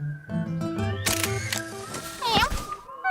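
A camera snaps a picture in the Postman Pat cartoon, a few crisp shutter clicks over background music, followed by a quick whirring sweep as the shot is taken.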